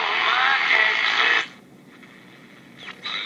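A 1957 Standard SR-F22 transistor radio plays music through a thin, harsh speaker for about a second and a half, then cuts off into quiet hiss, with brief clicks and a faint return of sound near the end.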